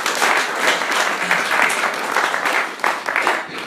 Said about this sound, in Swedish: Jag tycker vi ger Sebastian applåd.